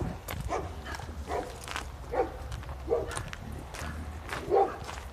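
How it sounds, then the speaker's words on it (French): Dog barks from a pet dog indoors, several short yips and woofs spaced irregularly over a few seconds, mid-distance, mixed with faint background noise and movement. "Oh, il m'énerve ce chien."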